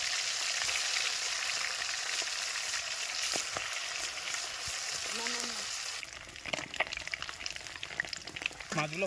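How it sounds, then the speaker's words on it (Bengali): Bhetki fish fries in mustard oil in a wok outdoors in a village kitchen, making a dense, continuous crackling sizzle. Clatter and a brief voice-like sound break in near the end. "মাছগুলো ভেজে নেবো, তাই জন্য কড়াইতে সর্ষের তেল দিয়ে দিলাম।"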